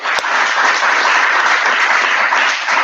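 Sustained, dense applause from a classroom audience at a talk with author Andy Weir, loud and steady for a few seconds with no voices over it.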